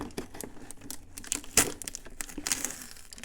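A small paper envelope taped on top of a mailed package is handled and torn open, with close, uneven bursts of crinkling and ripping paper over about three seconds.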